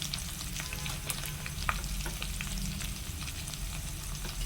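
Ingredients for a bottle gourd curry sizzle and fry in a pan, with occasional stirring clicks over a steady, moderate frying hiss and no talking.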